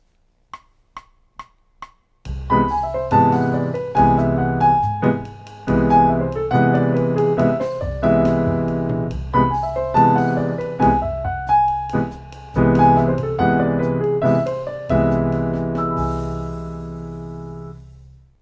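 A short piano pickup of soft high notes gives way to a rhythmic jazz phrase of rich seventh chords sliding downward step by step, ending on a sustained chord.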